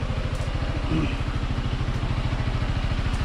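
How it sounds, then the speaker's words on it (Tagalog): A motorcycle engine idles steadily to charge its battery, a close, continuous low putter with an even rapid pulse and faint clatter, heard alone throughout. "itong motor ko isa pandar na siya guys para magkarga yung kanyang battery"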